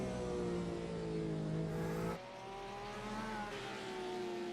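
A Porsche race car on the Interlagos circuit during a GT Masters three-hour event, its engine droning at steady high revs and then dropping abruptly in pitch and level as it changes gear or passes.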